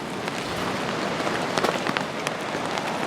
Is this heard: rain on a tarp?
yes